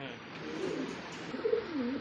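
A Dauka pigeon coos in low, rolling calls at close range, a couple of phrases over about two seconds against a soft background hiss.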